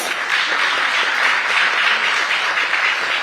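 Loud, dense applause from a large crowd at a market expo, continuous and steady throughout with no talking.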